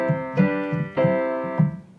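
Three chords played in sequence as a perfect cadence, tonic to dominant and back to tonic, each struck clearly with sustained harmonic tones on what sounds like a piano-type instrument, no speech.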